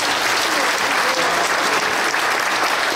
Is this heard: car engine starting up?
no